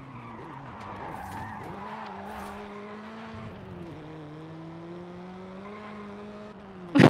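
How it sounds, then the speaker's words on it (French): Renault Clio tires squealing in Forza Horizon 5 as the car corners at high speed on a highway, a steady engine whine carrying a long sliding screech that holds for several seconds before a sharp burst at the end. "Elle fait des bruits de pneus, c'est infernal."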